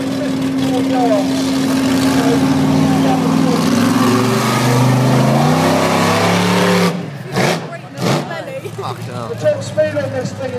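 Loud nitromethane-fuelled drag racing engine, freshly rebuilt, roaring and revving at a drag strip, then cutting into sharp, choppy bursts, with voices talking over the noise.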